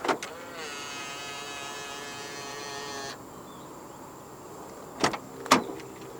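A 2017 Toyota Corolla Altis locking: a motorized whir runs for about three seconds after an initial click, then two sharp clunks near the end, all close and fairly quiet.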